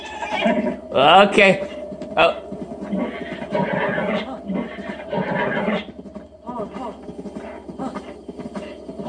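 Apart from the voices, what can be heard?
horse neighing and hooves in Zelda Breath of the Wild video game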